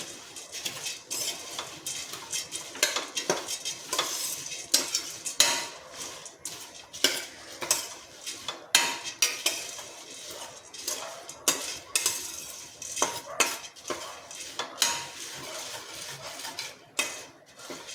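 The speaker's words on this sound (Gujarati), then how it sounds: "ઉપરથી આપણે સેવ લઈ લઈશું, ને બધું જ આપણે સારી રીતે મિક્સ કરી લઈશું" Puffed rice and sev being stirred together in a pan over a medium flame for garlic mamra, heard as continuous close scraping and clinking of a spoon against metal in quick, irregular strokes.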